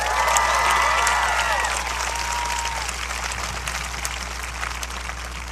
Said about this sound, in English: Please give a round of applause to Mr. Ian Wald.